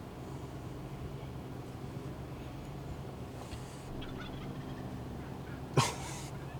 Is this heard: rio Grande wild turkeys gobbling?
yes